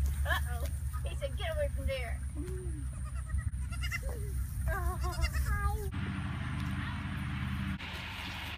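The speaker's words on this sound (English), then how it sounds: "Goats!" Several goats bleating at a farm fall festival in wavering, repeated cries over a steady low engine rumble and background voices.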